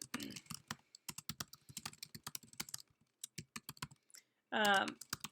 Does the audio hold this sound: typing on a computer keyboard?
yes